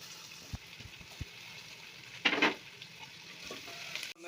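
Sliced shallots, onion and curry leaves sizzling in a hot pan in a Kerala kitchen, a soft steady frying hiss with a few light utensil taps and a brief louder burst of sizzle midway.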